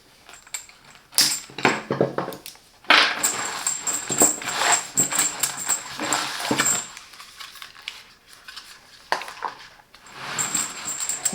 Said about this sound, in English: Let's remove the keys